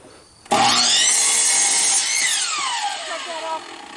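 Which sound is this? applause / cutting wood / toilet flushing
cutting wood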